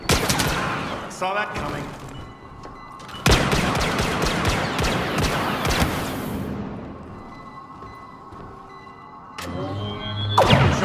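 Rapid bursts of blaster fire from the Star Wars Battlefront video game, loud sustained volleys with short gaps and a long stretch of shooting, under a man's brief speech.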